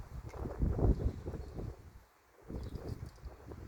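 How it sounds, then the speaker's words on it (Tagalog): Wind gusts buffet the microphone in a low rumbling roar, easing briefly to near quiet before picking up again, outside a house on a cold, rainy day. "Ang hangin."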